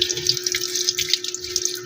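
Running tap water over sapsap fish being cleaned at a kitchen sink: close, steady splashing and trickling with a constant hum beneath, short and fairly loud, no voices.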